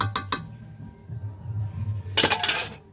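A metal lid goes onto a pot of cooking goat fat: quick clinks at first, then a louder clattering rattle near the end over a low simmer.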